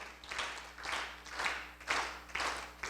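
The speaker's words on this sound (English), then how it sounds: "I would like you to clap in synchrony" Lecture audience clapping together in synchrony, a series of rhythmic unified claps roughly every half second, moderately loud against a quiet hall.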